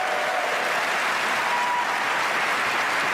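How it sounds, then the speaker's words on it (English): Audience applause fills an awards-show hall at The Game Awards, a steady dense wash of clapping from a large crowd, loud and continuous with no talking. "So please, a round of applause for our amazing devs."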